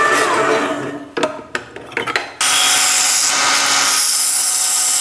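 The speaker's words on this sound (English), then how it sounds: "We're going to get ourselves a nice mitre cut." A saw set at 45 degrees cuts a mitre in metal for a rotary-swapped Honda QA50 build, starting with a few short scraping strokes and then a loud, steady, harsh cutting whine.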